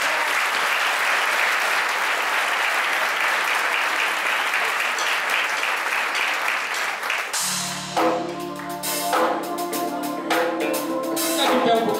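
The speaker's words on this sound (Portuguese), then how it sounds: "Vamos aplaudir a Ele com mais força" A church congregation at an anniversary service applauds loudly and steadily, then music with voices begins over the continuing clapping.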